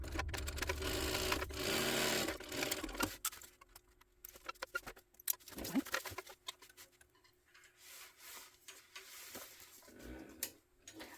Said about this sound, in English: we're going to top stitch on the side panel